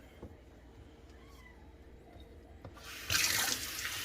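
A kitchen tap turns on partway through to rinse red snapper fish, its steady hissing rush of water growing loud and continuing to the end after quieter kitchen sounds.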